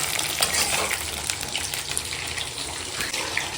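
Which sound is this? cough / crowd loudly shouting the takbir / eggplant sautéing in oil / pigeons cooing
eggplant sautéing in oil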